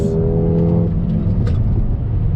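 A 2021 Mercedes-AMG GLA 35 SUV with 4MATIC accelerates hard in manual shift mode, its loud, close engine drone dropping sharply at a quick gearshift early on, then pulling on strongly.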